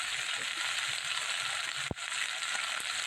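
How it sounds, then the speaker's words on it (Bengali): Ground spices, cumin, chilli powder, ginger, turmeric and slit green chillies frying in oil with nigella seeds for a Bengali tel koi fish curry, a steady close sizzle throughout with a brief clatter near the end. "ভালো করে ভেজে নেব"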